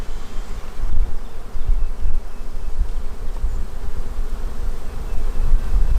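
Honeybees swarm around a beehive with a dense, continuous buzzing drone that holds steady throughout, close and fairly loud, with no talking.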